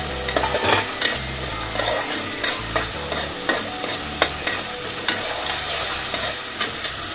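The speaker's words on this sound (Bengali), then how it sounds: "দিয়ে এটাকে আমি 2-3 মিনিট মতো তেলের মধ্যে কষিয়ে নেব যেন সরিষার গন্ধটা চলে যায়।" Masala with green chillies sautéing in hot oil in a pan, a loud continuous sizzle and crackle with repeated spoon scrapes and stirring knocks throughout.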